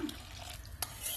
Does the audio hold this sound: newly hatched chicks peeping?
no